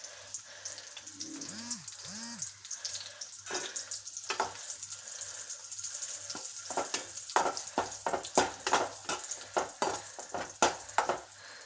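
Undapori fritters frying in hot oil while being turned, with a steady soft sizzle, a few clinks and scrapes of a utensil, and a run of sharper stirring or splashing noises toward the end.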